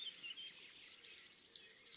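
A blue tit sings close by, a couple of thin high notes followed by a quick, even trill of repeated bright chirps, clear against silence.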